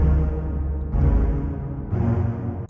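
Sonicware Texture Lab granular effects processor with delay randomization off, giving a deep, resonant, droning low wash that swells in three broad pulses, close and sustained with no talk.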